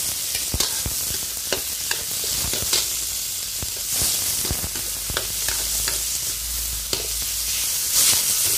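Onion and tomato sizzle steadily in a hot frying pan, with sharp clicks and scrapes from stirring scattered through the continuous hiss; no voices.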